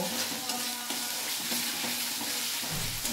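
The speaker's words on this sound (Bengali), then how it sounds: "এবার আমি মশলাটা হালকা করে একটু কষিয়ে নেব।" Fennel paste spice mix sautéing in a pan for a fish dish, a close, dense sizzle with rhythmic spatula strokes and soft scrapes repeating every half second or so; no talking.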